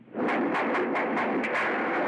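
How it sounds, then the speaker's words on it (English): A rapid series of loud, close gunshot-like bursts, about six sharp cracks in quick succession over a dense, roaring background. "I hear gunfire."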